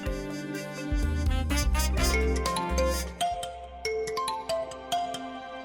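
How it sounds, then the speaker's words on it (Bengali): A mobile phone plays a melodic ringtone for an incoming call, with bright chiming tones repeating loudly and steadily for several seconds with no one speaking. "এই তো দেখি তোমার স্বামী ফোন করছে।"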